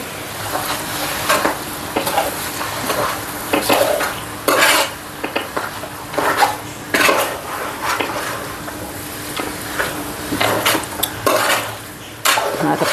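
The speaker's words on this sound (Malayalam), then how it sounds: "എല്ലാം കൂടെ ഒന്ന് ഇളക്കുക." Beef curry ingredients stirred together in a pan, with a spoon repeatedly scraping and clanking against the metal over a constant sizzle, loud and close, rhythmic strokes throughout.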